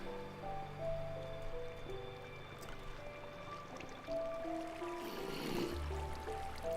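Water flowing along a channel in the Minecraft video game, a steady wash with a brighter splashing burst near the end, heard alone without any talking.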